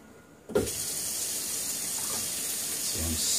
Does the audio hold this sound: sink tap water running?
yes